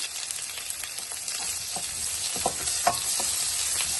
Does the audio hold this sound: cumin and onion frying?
yes